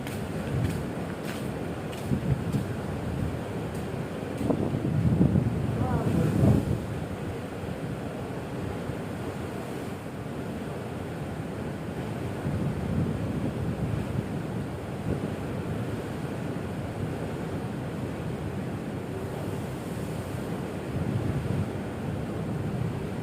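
Continuous wind rushes over the microphone while ocean waves swell and break in a low, rolling roar, heard from a cruise ship at sea; no voices.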